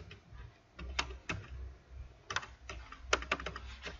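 Keystrokes on a computer keyboard entering a DOS command, a scattered run of light taps with pauses between bursts, quiet and close, with no talking.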